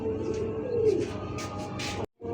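Pigeons coo in a low, continuous burbling close by, the sound cutting off briefly just before the end.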